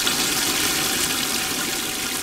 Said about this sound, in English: This is the Johnson Pump Portable Aeration System, and what is really cool about this, it keeps your minnows really alive.